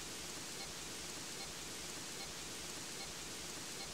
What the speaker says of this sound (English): It is raining today, so Peppa and George cannot play outside.